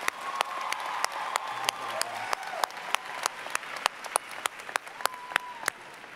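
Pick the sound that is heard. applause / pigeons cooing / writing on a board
applause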